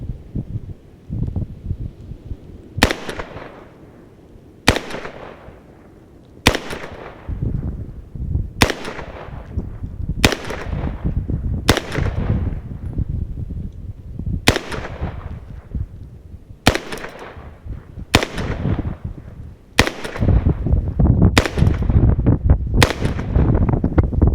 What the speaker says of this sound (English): Maybe I'll shoot it like a handgun, like this.